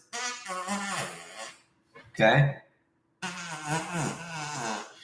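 A handheld fart noise maker toy gives a short, loud, buzzy burst like a bumblebee. A person talks briefly before and after it.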